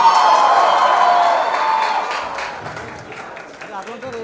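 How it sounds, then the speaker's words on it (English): Audience cheering and applause after a stage performance at a film promotion event, a loud crowd roar with whoops and clapping that gradually fades, with voices mixed in. "Can we all have a loud cheer from the audience because he deserves it?"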